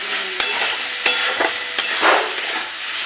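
Fish head and vegetables fry in a pan with a steady sizzle, punctuated by several sharp knocks and scrapes as a spatula stirs them at irregular intervals; no speech.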